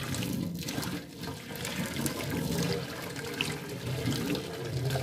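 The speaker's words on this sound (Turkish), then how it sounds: "Sürttükten sonra sıcak suyumuzu dökelim" Hot water pours steadily into a clogged sink drain after the yellowed spots have been scrubbed, a continuous close splashing gush that runs the whole time.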